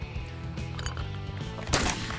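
A single shotgun blast fired from the hip at a regular clay target during upland trick shooting, a sharp loud crack near the end of a short stretch of outdoor background noise.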